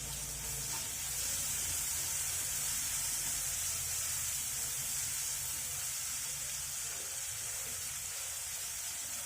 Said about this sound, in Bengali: পেঁয়াজটাকে গোল্ডেন ব্রাউন করে ভেজে নিব